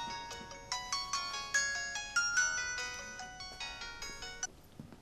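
A phone ringtone plays a bright repeating melody of chiming tones, steady and fairly quiet, with no voices over it.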